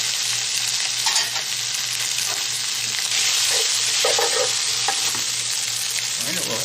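Sizzling Spam fries in a pan for garlic fried rice, a steady close hiss with occasional scraping stirs and small crackles, no voices.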